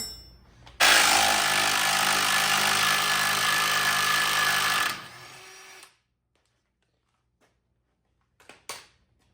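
An impact wrench with a deep well 21 socket working suspension bolts on a 2005-2009 Buick LaCrosse, a loud continuous rattling hammering burst of about four seconds, then stopping, followed by a few faint clanks.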